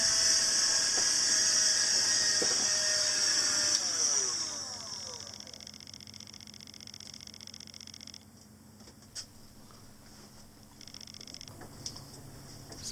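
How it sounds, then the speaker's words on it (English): A shop vac runs loud and steady as it cleans sawdust and rotted wood out of a DIY boat, its whine then dropping to a lower, quieter hum with scattered knocks and clatter of debris. "I'll use the shop vac to get that all cleaned up"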